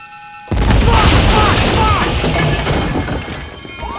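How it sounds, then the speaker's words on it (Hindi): A timed explosive charge detonates during a bank heist in GTA V. A sudden loud boom breaks a near silence, followed by a sustained rumbling roar with scattered debris crackle and faint whistling tones, and no talk over it. "I'm setting the charges. They're on a timer, so brace"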